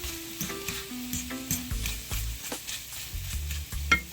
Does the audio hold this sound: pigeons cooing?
no